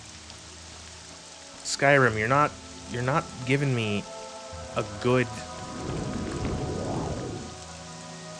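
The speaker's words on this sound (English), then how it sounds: "still raining" Steady rain from the video game Morrowind hisses in a constant wash behind someone talking, with a low rumble swelling near the end.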